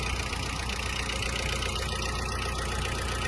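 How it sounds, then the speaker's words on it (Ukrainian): A Mitsubishi MT-246 Japanese mini tractor engine idles with an even, throbbing chug, loud and close, holding steady for the whole stretch. "Дуже приємний звук двигуна."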